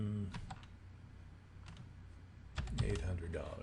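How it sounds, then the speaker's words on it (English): Computer keyboard typed on at close range: a few quick clicky keystroke bursts, partly under a voice that talks at the start and end. "now I can type in the price"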